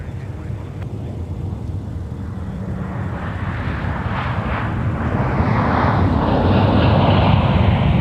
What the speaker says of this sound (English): Next up for arrival on runway 12 right, Delta 2415 from Portland, Oregon